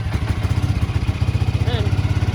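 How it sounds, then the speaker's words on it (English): A Can-Am ATV engine idles on choke while warming up, with a rapid, even chugging pulse close to the microphone that runs throughout. A faint voice is heard briefly. "slowly lower that choke down as the engine warms up"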